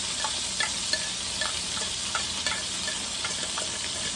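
Yellowfin tuna fries in extra virgin olive oil in a pan with a steady, close sizzle and crackle. Light scraping ticks from stirring come at a loose rhythm, with no voices.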